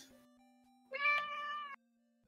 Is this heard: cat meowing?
yes